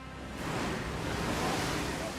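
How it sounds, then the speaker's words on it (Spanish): Storm surge waves during a tropical storm make a steady, loud roar of crashing surf and rushing water, close by, with wind-like noise running throughout. "otra compañía de bomberos se ve sorprendida por el repentino oleaje causado por la tormenta"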